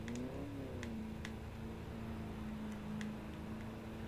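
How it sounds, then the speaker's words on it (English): Diesel truck engine creeping along in the Ford Racing 3 video game, a low steady droning hum with a slight pitch rise at the start, quiet, accompanied by faint ticking clicks. "That sounds like a diesel."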